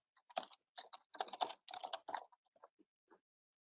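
Someone types file notes on a computer keyboard: quick, close clusters of crisp key clicks in short bursts, then a few slower isolated taps, with no other sound.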